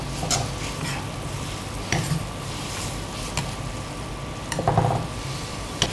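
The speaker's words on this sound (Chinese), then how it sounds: "必须要大火来汆蛋" Eggs cooking in water at a rolling boil over high heat, heard as a steady low bubbling and sizzling hiss with occasional stirring scrapes and soft clicks. A few brief louder bursts rise above it, and no one talks.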